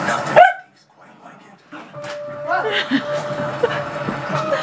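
A dog gives a sharp bark, followed by playful yips and scuffling while people laugh and talk softly nearby.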